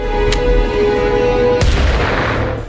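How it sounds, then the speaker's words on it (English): A single loud, close gunshot cracks out, with a sharp boom and a rumbling tail over a steady dramatic background score in a Walking Dead: Daryl Dixon scene set in Paris. "A gunshot rang out."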